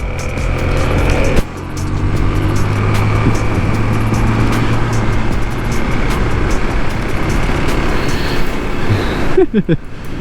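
A Kawasaki KLX 300SM motorcycle rides along, its engine droning loud and steady with a rumbling low end and rising pitch as it pulls, plus a brief dip early on and wind buffeting near the end.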